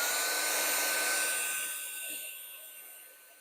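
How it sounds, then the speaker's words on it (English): An embossing heat gun blows with a steady whooshing hiss onto card paper, close and fairly loud, then fades off over a few seconds. "I'm going to bring in an embossing gun"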